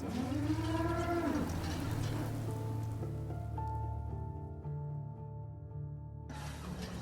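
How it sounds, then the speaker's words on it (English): Steady rain falls in the video game Fallout 4, a continuous soft hiss with low droning tones underneath and a brief, rising lowing animal call near the start; no one talks. "Hope this rain lets up soon."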